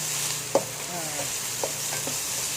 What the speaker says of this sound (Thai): หลังจากที่ใส่น้ำมันแล้วก็ใส่ หอมใหญ่ คั่วกับน้ำมันจนใสแล้วเนี่ย เราก็ใส่ มะเขือเทศที่หั่นไว้นะคะ